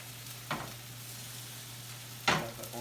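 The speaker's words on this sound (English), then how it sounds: "Then when they're cooked enough on one side, flip them over." Hash brown potatoes fry in hot oil on a stovetop after being flipped, a quiet steady sizzle with two brief louder scrapes or stirs breaking in.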